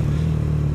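A Suzuki GSX-R150 motorcycle fitted with a racing exhaust idles with a loud, steady, low throb heard up close, without any talk.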